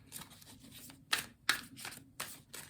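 Tarot cards shuffled by hand in a few quick, crisp bursts of riffling with short pauses between, close and fairly soft, with no talking.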